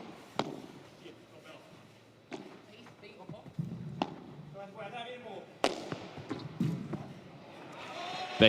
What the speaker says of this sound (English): Big time hit, big time smash from Alex Ruiz.